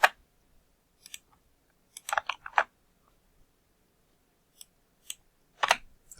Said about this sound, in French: je tape le nom de ma salle et je clique sur démarrer la conférence